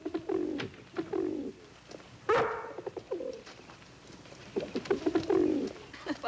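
Racing pigeons cooing close by, with repeated soft, throaty coos in several bursts and a brief sharper sound near the middle, and no speech.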